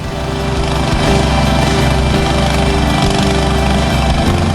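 A loud engine-driven rig drills a water bore well at a flood evacuation site in Tukka, Central Tapanuli, roaring in a constant, close drone with a faint rhythmic chatter throughout.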